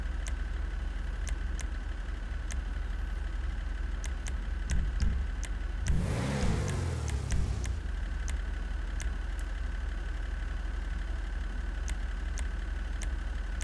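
A Mammoth Patriot Mil Spec off-road vehicle in GTA Online sits idling steadily at a low rumble, then gives one brief rev burst about midway before settling back to idle, with sharp periodic clicks over the hum.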